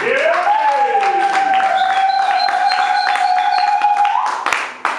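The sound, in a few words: congregation ululating in celebration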